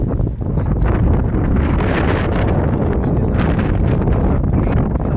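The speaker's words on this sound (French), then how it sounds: "C'est la tempête." Strong, gusty wind in a March storm buffets the microphone outdoors, a loud continuous roar with rising and falling surges throughout, no clear speech over it.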